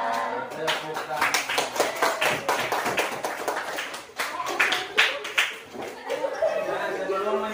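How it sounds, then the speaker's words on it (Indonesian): A classroom group claps in a rapid, rhythmic patterned clap, close and lively, mixed with voices chanting and chatting. "Tepuk tangan."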